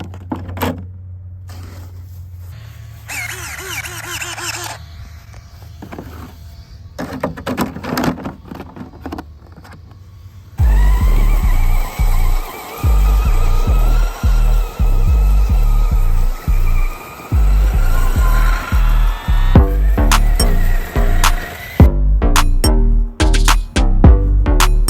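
An RC truck fitted with saw blades running at a park: quiet clicks and handling noises first, then a loud motor whirring in repeated bursts with sharp gaps, rattling and scraping near the microphone.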